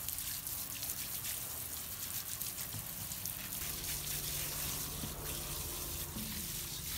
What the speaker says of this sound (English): To expedite this, I'm going to use my hose here to show you